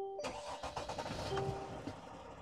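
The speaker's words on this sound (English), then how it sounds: "Now the engine is running." A generator engine cranks and catches, then settles into a loud, rumbling run up close, with no voices.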